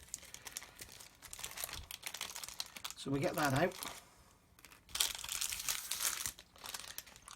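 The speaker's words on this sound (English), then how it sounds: "these parts are individually bagged, so we can just open them as we need them" Crinkly plastic parts bags from a Tamiya Land Rover Defender CC-01 model kit being handled and torn open, a burst of close crumpling mid-clip between stretches of someone talking.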